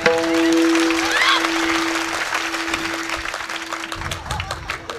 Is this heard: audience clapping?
yes